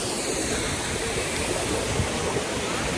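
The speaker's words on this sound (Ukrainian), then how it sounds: "Ми на водоспаді." A waterfall in the Carpathian mountains gives off a steady, full rushing roar of falling water, constant and fairly close, with no talking over it.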